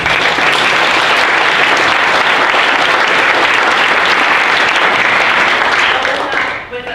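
An audience at a high school senior brunch claps in sustained applause, dense and loud, holding steady for several seconds before tapering off near the end.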